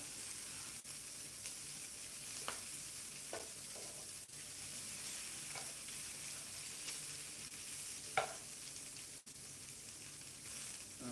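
Shrimp frying in butter on a hot griddle give off a steady, moderately quiet sizzle. A few soft scrapes and taps of stirring come through around it, and nobody speaks.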